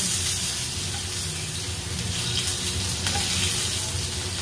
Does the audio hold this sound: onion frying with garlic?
yes